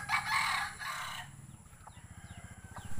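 A bantam chicken in a pen crows loudly and close at the start, then gives a run of quick, low rhythmic clucks.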